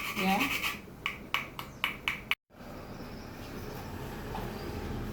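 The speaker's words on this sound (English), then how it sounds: "So I'm grating some nutmeg." Whole nutmeg grated by hand for a Trinidad and Tobago paynause, five or six quick rasping strokes in a rhythmic burst, close and moderately loud, then quiet kitchen background.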